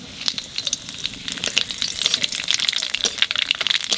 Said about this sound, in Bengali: তেলের উপর দিয়ে দেবো কালো জিরে আর তেজপাতা।